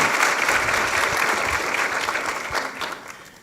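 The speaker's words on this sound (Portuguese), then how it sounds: "se aplausos houver, eu aplaudo" Audience of Harvard students at the Brazil Conference applauding, a dense burst of many hands clapping that starts full and gradually thins and fades over a few seconds.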